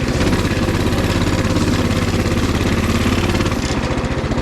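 A Coleman 200cc mini bike with a 196 engine and torque converter runs steadily at close range, its loud, even engine chug holding the whole time with a slight change near the end.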